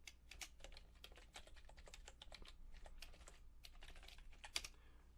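Rapid, uneven typing on a computer keyboard, close and fairly quiet, a continuous run of clicking keystrokes with brief pauses and no talking.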